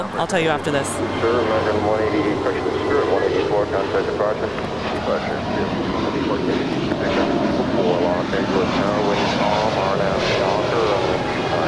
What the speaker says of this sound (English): And that's Spirit Flight 184 to Cleveland. Only a 1-year-old A320.